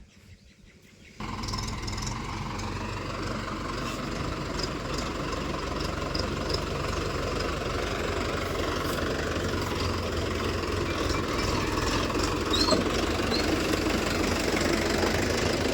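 A Mahindra Yuvo tractor engine starts up after a quiet moment and then runs steadily, a close, loud diesel rumble with a knocking idle that holds for the rest of the clip.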